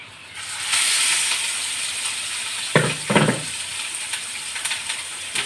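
Fish frying in a home kitchen pan, sizzling and hissing steadily at close range, with a couple of brief clatters of utensils against the pan midway.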